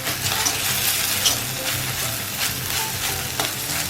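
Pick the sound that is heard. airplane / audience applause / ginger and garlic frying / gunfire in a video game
ginger and garlic frying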